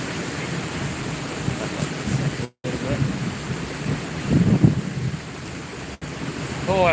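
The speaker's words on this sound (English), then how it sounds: "I hope that wind stays up" Steady wind gusting outdoors on a freshwater fishing outing, a loud broadband rush buffeting the microphone with a couple of brief dropouts.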